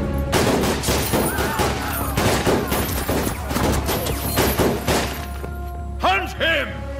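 A volley of gunfire erupts in a dubbed South Indian action movie scene, dense repeated shots and thuds over a continuous low rumble, mixed with shouting voices and dramatic score.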